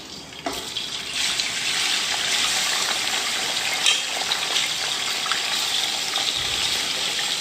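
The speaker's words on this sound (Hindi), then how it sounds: "उसी ऑयल के अंदर हमने ये मसाले डाल दिए हैं और इसी के साथ हम इसके अंदर ऐड करेंगे अपने 3 kg चिकन" Three kilograms of chicken dropped into hot oil with spices, giving a loud steady sizzling hiss that runs the whole time after a sharp start, no talking.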